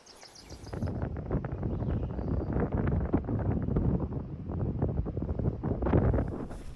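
Wind gusting steadily around a rooftop tent mounted on a Jeep in the mountains, with the skylight and side window open, a broad continuous rumble that swells and buffets the microphone close up.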